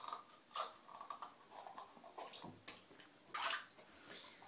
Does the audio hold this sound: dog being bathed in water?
yes